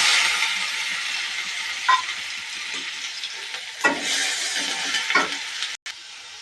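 Onions frying in a pan with garlic paste stirred in, a steady loud sizzle broken by a few sharp scrapes and clinks of the spoon, no voices.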